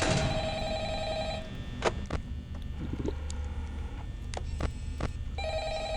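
In Five Nights at Freddy's, an old telephone rings with a bright electronic bell in two bursts separated by a short pause filled with faint clicks and a low hum.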